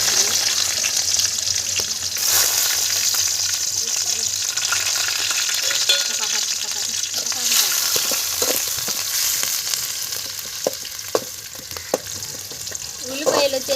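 Onions frying in a pan over a wood-fired stove after tomatoes and mustard seeds go in, giving a loud continuous sizzle with a few scattered clinks and stirring scrapes.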